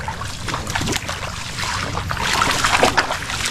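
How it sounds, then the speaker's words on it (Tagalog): Shallow water is stirred by hand while crabbing outdoors, giving a steady close swishing and trickling slosh with light wind noise throughout. "Gagalaw ko lang yung tubig."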